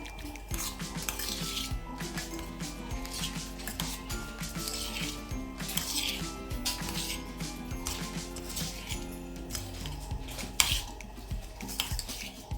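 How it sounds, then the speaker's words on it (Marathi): A spoon scraping and clinking steadily in a bowl while mixing pickle masala into bimli pickle, close and continuous with rhythmic metallic taps and no talking. "आता आपण हे व्यवस्थित मिक्स करून घेऊया."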